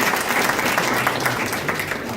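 A lecture audience breaks into loud, dense applause that holds steady throughout, many hands clapping together to welcome a speaker.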